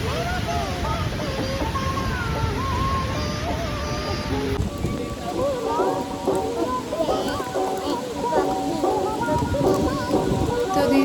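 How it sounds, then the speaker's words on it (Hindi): Heavy rain pours down at a pool during a thunderstorm, a dense, loud, steady hiss with rumbling thunder and scattered chirping sounds mixed in, and a voice speaking over the downpour. "धीरे धीरे बारिश इतनी तेज हो गई कि हमें पूल छोड़ना पड़ा"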